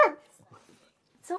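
A small Boston Terrier and Beagle mix gives a sharp bark up close at the start, then a second short bark near the end, with faint low murmurs between.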